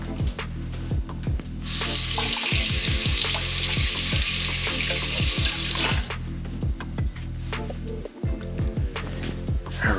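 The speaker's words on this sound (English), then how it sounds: "just wash my hands" Tap water runs into a kitchen sink for about four seconds of hand washing, a steady close rush in the middle with quieter clatter and kitchen sounds before and after.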